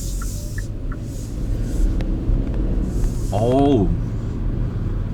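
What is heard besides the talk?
Hyundai Casper van turbo engine accelerating from start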